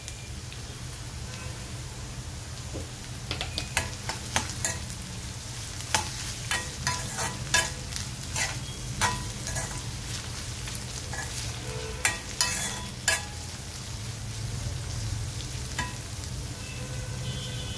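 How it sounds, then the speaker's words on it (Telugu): Ivy gourd (tindora) pieces frying in a pan, a steady soft sizzle broken by sharp scraping taps of a spatula stirring at irregular intervals. "దొండకాయ ముక్కలు కొద్దిగా ఫ్రై అయిన తర్వాత ఇందులో పసుపు వేసుకోవాలి"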